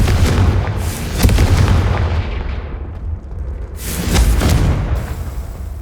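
Confringo fire spell blasts in the Hogwarts Legacy video game: loud, rumbling explosions with crackling bursts, a heavy boom early, a brief dip, then another powerful blast swelling near the end.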